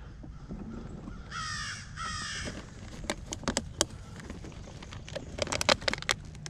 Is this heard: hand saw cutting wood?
no